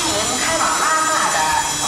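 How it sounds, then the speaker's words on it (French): A train pulls into Nagqu station in Tibet, giving off a steady loud rolling rumble with high squealing wheel tones throughout. "Nous arrivons à la gare de Nagpu, principale région pastorale du Tibet."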